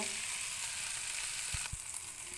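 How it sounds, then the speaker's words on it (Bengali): Prawns sizzle in hot oil, browning, with a steady crackling hiss, broken by a couple of soft low knocks near the end. "চিংড়ি মাছটা আমার ভাজা হয়ে গেছে"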